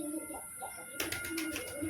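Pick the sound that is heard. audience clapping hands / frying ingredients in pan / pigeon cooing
pigeon cooing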